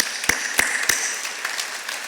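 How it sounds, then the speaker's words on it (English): A gala audience at a 2020 Cornerstone Gala gives a few sharp, close claps in quick succession, then trails off into softer, scattered clapping under a steady room hiss. "I think that's something that we should clap about"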